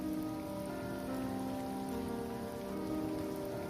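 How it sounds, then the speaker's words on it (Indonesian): Light rain pattering steadily on a roof, a dense, even wash of drops that stays at a constant level throughout with no voices. "Cuma ada suara rintik hujan aja di atap."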